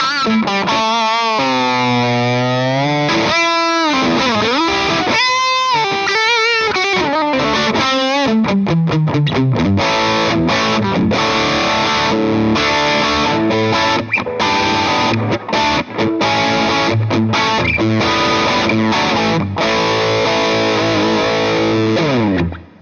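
Loud, heavily distorted electric guitar through a Blackstar amp turned to full volume, sliding and bending notes at first, then a dense run of crunchy chords.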